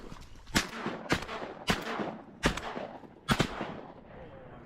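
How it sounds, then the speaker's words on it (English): Five loud shotgun blasts fire in quick succession at incoming teal over a flooded cornfield on a duck hunt, each a sharp crack with a short echoing tail. "I missed all 3 shots."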